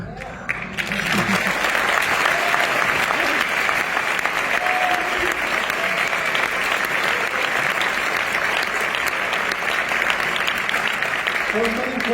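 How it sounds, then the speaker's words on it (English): A large audience at a talk on glutathione in Madrid bursts into loud, sustained applause, a dense continuous clatter of hands that stays strong for the whole stretch, with a few faint voices mixed in. "You can clap."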